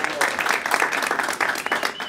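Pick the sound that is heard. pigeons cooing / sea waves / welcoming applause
welcoming applause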